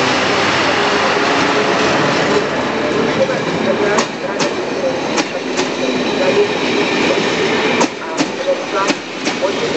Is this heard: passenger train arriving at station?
yes